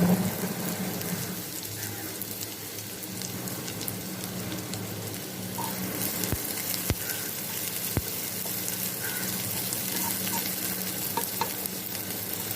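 A little onion fries in a pan until light brown, making a steady close sizzle with occasional sharp stirring clicks, and no one speaks over the continuous frying hiss.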